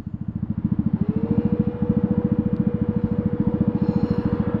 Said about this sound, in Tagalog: maririnig nyo tumatakbo na yung fan kasi mainit yung panahon